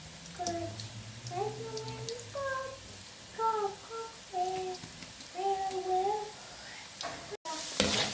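French fries sizzle in hot oil over a medium-high flame, a steady hiss running throughout while melodic tonal sounds play over it, ending with a brief cut and a burst of noise.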